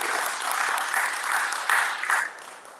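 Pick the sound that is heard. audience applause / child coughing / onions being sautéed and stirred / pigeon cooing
audience applause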